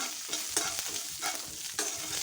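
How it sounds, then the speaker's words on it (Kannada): Indian gooseberries are being fried with cumin and urad dal in a pan for a Karnataka-style tambuli, giving a soft close sizzle broken by several quick stirring scrapes, with no talk. "ಜೀರಿಗೆ ಉದ್ದಿನಬೇಳೆ ಹುರಿದ ಮೇಲೆ ನೆಲ್ಲಿಕಾಯಿನ ಹಾಕ್ಕೊಳ್ತೀನಿ"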